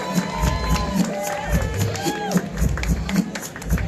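A live audience in San Francisco cheers and claps for a performer, a lively crowd mix of applause, shouts and whoops at moderate distance.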